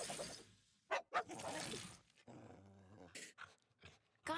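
A cartoon dog growls and grumbles in low, rough bursts up close, broken by brief pauses and small whimpering sounds.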